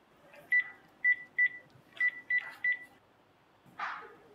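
A telephone being dialed, six short electronic keypad tones in an uneven rhythm, clear and close over a quiet room, followed by a brief soft rustle.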